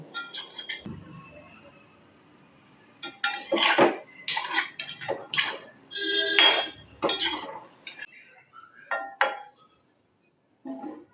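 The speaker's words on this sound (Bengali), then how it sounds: "এইভাবে আস্তে আস্তে করে আমি অনবরত নেড়ে নেড়ে পান্তুয়াগুলোকে ভেজে তুলে নেবো" Sweet potato pantua fry in a pan while being stirred without pause, with bursts of metal utensil scraping and clinking against the pan separated by short quiet gaps, close and fairly loud.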